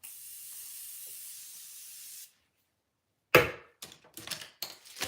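A steady hiss of aerosol spray lasts about two seconds, then silence, followed by a few rustling, clattering handling noises.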